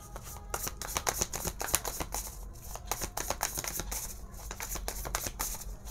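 Tarot cards are shuffled by hand in a steady run of crisp riffles and soft slaps, a close, continuous papery flutter that lasts the whole stretch with no talking over it.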